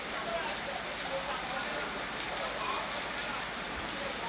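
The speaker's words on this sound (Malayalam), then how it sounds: "കണ്ട കോരിച്ചെരുന്ന മഴ ഇതാണ് മഴ" Heavy summer rain pours down in Edappal, Kerala, in a dense, steady hiss, unbroken and even from start to finish.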